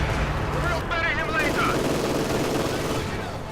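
MG42 machine gun in Company of Heroes 2 rattling in a dense, continuous battle din of infantry fire between Soviets and Wehrmacht, steady and loud throughout, mixed with someone talking.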